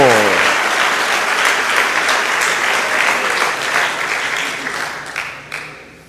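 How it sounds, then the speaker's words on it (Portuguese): A church congregation breaks into dense, loud applause that carries for several seconds, then thins and tapers away at the end. "Dê uma salva de palmas a Jesus"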